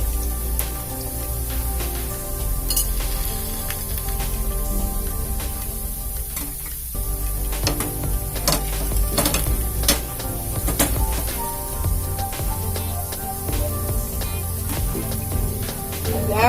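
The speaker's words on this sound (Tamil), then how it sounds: "எடுத்து கடாயில போட்டுக்கலாம். நல்லா வேகட்டும். சுத்தி கொஞ்சம் எண்ணெய் ஊத்திக்கலாம்." Ragi adai cooking in oil in a kadai gives a steady sizzle and crackle throughout, with a few brief metallic scrapes and clinks of a utensil against the pan.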